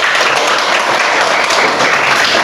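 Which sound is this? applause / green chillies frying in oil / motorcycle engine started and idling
applause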